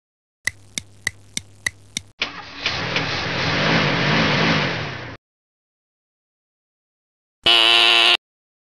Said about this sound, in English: are there cars outside my window?